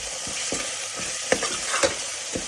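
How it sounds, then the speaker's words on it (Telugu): Ginger garlic paste with coriander, mint and curry leaves frying in a pan for Telangana-style boti curry: a steady hiss with soft, regular scrapes and taps of a spoon stirring, no voices. "వాసన పోయే వరకు కొంచెం బాగా ఫ్రై చేసుకోవాలి"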